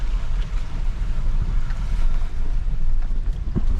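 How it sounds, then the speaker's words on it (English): A creek swollen by heavy flooding rushes past, a loud, steady roar of fast-flowing water that fills the whole stretch without pause and with no voices over it. "the creek is still flowing. It's rushing fast still."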